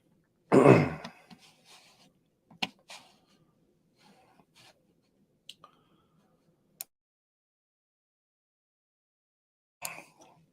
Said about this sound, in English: Sorry, I don't want to cough in you guys' ear.